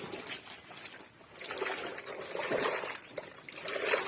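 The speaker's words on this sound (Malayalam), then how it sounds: "ഈ റബ്ബർ ഷീറ്റ് ഇതേപോലെ വെള്ളത്തിൽ മുക്കി ഒന്നിടാം" A rubber sheet is dipped and moved in water, giving soft close sloshing and trickling that swells and fades in uneven bursts, fairly quiet with no talk.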